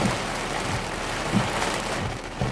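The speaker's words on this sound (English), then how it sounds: "There's the rain." Steady rain falls around a car parked outside a Chipotle, a dense, even hiss of drops on the roof and glass with faint low rumbles, no voices.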